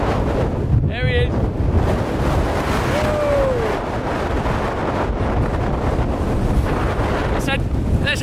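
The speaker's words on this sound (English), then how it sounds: "How windy is this?" Strong wind buffets the microphone in a constant roar on a Peak District hillside, with brief bird chirps and a faint voice briefly audible beneath it.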